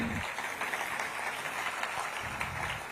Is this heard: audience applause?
yes